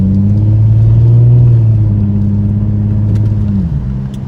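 Car with badly worn tires driving on a road, a loud close steady engine and road rumble from inside the cabin, holding an even drone that shifts slightly in pitch near the end.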